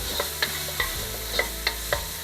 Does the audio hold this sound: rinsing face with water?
no